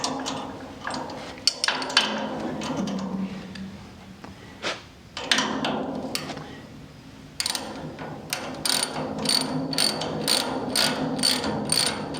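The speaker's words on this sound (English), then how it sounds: "Hold the little block with a wrench." A wrench ratchets in repeated clicking bursts while chassis parts of a GT3 road race car are tightened during a rebuild, the close, crisp clicks speeding into a steady rapid run toward the end, with no talk.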